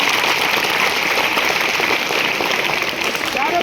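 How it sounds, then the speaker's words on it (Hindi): Children in a classroom break into loud, sustained applause, a dense even clatter of many hands clapping that holds steady throughout with a faint voice underneath. "जोरदार ताली के लिए बजाना।"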